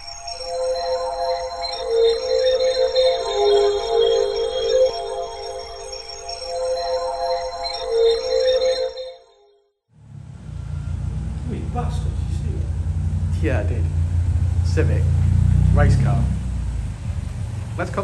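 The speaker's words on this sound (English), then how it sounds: "So we're going to put it on the dyno, see what she makes in standard form," Mitsubishi Colt CZT engine running on a dyno in standard form, heard in the second half as a loud, steady low roar that builds toward the end, after a quieter stretch with a voice.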